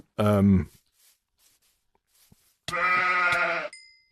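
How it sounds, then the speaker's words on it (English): A sheep in the RealmCraft VR survival game gives two clear bleats, a short one at the start and a longer one later, separated by near silence with faint game noises. "Right, there's a sheep."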